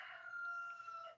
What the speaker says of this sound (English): so the rooster that we have